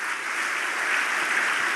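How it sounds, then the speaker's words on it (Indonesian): A church congregation at an evening prayer service claps, a brief, even hiss of many hands sounding at moderate volume and unbroken for under two seconds. "Tepuk tangan buat Tuhan Yesus"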